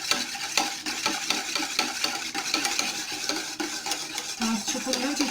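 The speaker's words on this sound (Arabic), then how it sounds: "نبدا نحرك" A spoon stirring lemon tart mixture in a bowl, close continuous scraping and swishing with a quick repetitive rhythm and faint metallic clinks, no voices.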